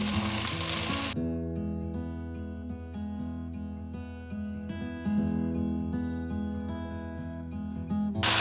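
Garlic, onions and tomatoes frying in a stock pot give a bright burst of sizzle at first, then the frying continues beneath loud, sustained background music.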